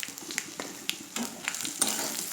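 Masala of ground chilli, turmeric, salt and green chillies sautéing in a pan for a Bengali lemon fish curry, with a soft continuous sizzle and scattered scraping stir strokes, close and moderately quiet.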